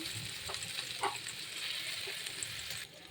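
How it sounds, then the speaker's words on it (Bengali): Onion, tomato and green chilli fry over a low flame in a pan, giving a steady, moderately loud sizzle with a few brief stirring clicks before it drops off near the end. "পেঁয়াজটা ভাজা হয়েছে এবার টমেটো আর কাঁচা লঙ্কা দিয়ে দিয়েছি"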